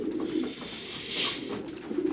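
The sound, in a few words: pigeons cooing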